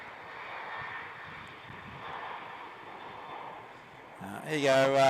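A Velocity Boeing 737-800 takes off at Melbourne Airport, heard as a broad, steady jet roar at a distance that swells slightly, before a voice breaks in near the end.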